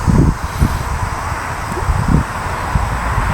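Gusty wind blows across an outdoor shooting range, buffeting the microphone in low, rumbling bursts that rise and fall in uneven pulses, loud and close.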